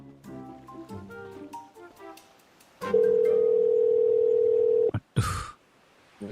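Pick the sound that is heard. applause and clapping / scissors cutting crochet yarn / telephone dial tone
telephone dial tone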